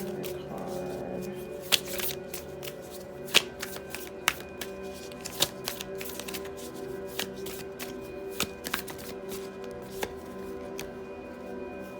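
Tarot cards being shuffled and drawn by hand in a quiet room, with soft continuous riffling broken by sharp taps and snaps, close and fairly faint.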